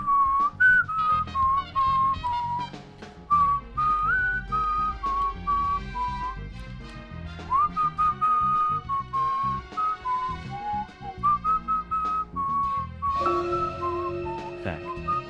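A person whistles a lively melody, clear and close, with a soft instrumental backing underneath.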